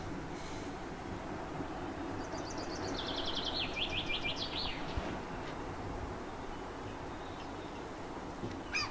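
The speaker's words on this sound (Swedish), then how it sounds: "Törstig liten bofink." A common chaffinch at a garden spot delivers one rattling, descending phrase of moderate loudness over steady outdoor hum, with faint chirps before and after.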